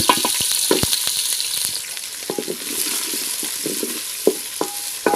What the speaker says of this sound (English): frying githeri